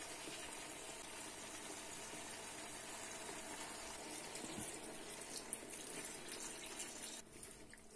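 Water poured into a cooking pot while braising lamb offal with saffron milk cap mushrooms, a continuous gushing wash of liquid running for several seconds, fairly faint with steady kitchen noise and no talking.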